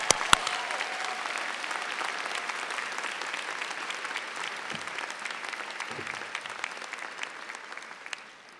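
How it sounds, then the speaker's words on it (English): At the Simmons University 2023 undergraduate commencement, a large crowd applauds the planning team, staff and faculty with long, even clapping that holds steady before gradually tapering off. "Can we give the planning team and our staff and faculty another applause, please?"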